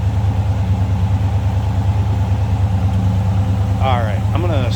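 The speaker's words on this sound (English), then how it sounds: "As you can hear, smooth running V8." A 1941 Ford Super Deluxe Convertible street rod's V8 engine idles with a steady, low rumbling drone, close and even throughout.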